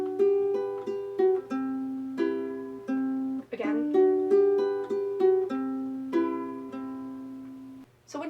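A ukulele fingerpicks the pattern for a song from Adventure Time, with clear, bright plucked notes in a steady rolling rhythm over chord changes. A voice briefly speaks partway through.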